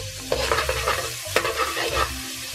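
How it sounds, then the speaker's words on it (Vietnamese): Minced shallot, garlic and chili sizzle loudly in hot oil in a pan, with a few sharp scraping stirs breaking through the steady frying hiss, close up and with no talk. "Tiếp theo thì mình sẽ cho hành, tỏi, ớt băm nhuyễn vô để phi thơm."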